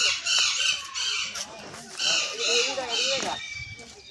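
Parrots, including red-necked and yellow birds, give harsh, loud squawks and screeches in bursts through the clip, with people talking nearby.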